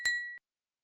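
A single bright notification bell ding rings clean and close, a short metallic chime that fades in well under half a second, alone against silence.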